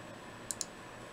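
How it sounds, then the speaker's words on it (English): Two quick, faint computer mouse clicks about a tenth of a second apart, crisp and isolated against quiet room hiss. "is just to continually click on paste"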